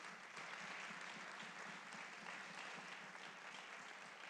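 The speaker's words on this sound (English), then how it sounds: "Can we give the majority leader a round of applause" A round of applause in the Illinois House of Representatives chamber for the majority leader, a dense steady wash of many hands clapping that holds evenly throughout, heard faintly and from a distance.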